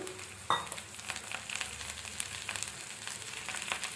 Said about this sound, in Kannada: ಈರುಳ್ಳಿ ಸ್ವಲ್ಪ ಫ್ರೈ ಆಗಿದೆ. ಇವಾಗ ಟೊಮೆಟೊ ಹಾಕ್ಕೊಳ್ತಾ ಇದ್ದೀನಿ, ಕಟ್ ಮಾಡಿ ಇಟ್ಕೊಂಡಿರೋದು.